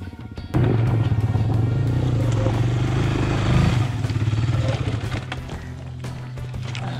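Yamaha TT-R 250 dirt bikes labour up a steep slope, a loud close engine drone with steady low harmonics and brief revving, plus clattering knocks near the end.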